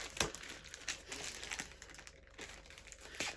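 Crinkling of a plastic parcel bag being handled during unboxing of a lost Ukrposhta postal package, with irregular close rustles and sharp crackles through the whole stretch and no talking.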